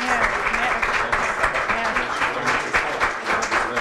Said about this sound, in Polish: Wielkie brawa, gratuluję.